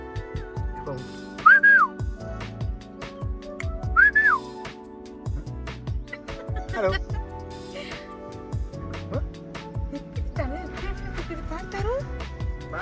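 At West Midlands Safari Park, a person whistles to attract an animal: two short rising-and-falling whistles early on, then more whistling later, over outdoor background noise and occasional voices.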